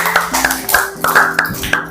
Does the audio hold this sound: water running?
no